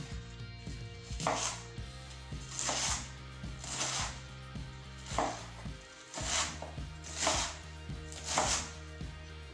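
A knife chops flat Chinese cabbage on a board in distinct, evenly spaced strokes, about seven loud close chops over a low steady background hum, with no speech.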